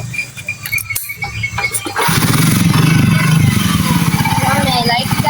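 A Honda CD 50 motorcycle engine catches after a kick and settles into a loud, close, steady putter with light revving, following a few seconds of someone talking and mechanical clatter.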